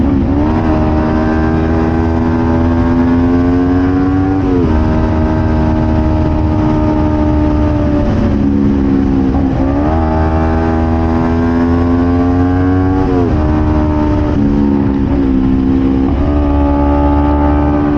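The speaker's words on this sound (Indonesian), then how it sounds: "Di sini saya coba tes knalpot" A Kawasaki Ninja 250 FI with a loud Pro Speed Python aftermarket exhaust revs repeatedly, its deep engine note rising and falling in several bursts, close and loud.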